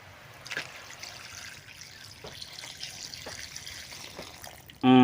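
Water poured steadily while cooking breakfast, a soft continuous trickle with a few light splashes, fairly quiet and alone, ending in a sudden louder clatter.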